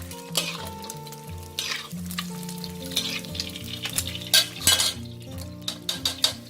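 Shredded fish frying in hot oil in a pan for a crispy fluffy fish salad, with a continuous crackling sizzle, stirring and metallic clinks of a utensil, over soft background music.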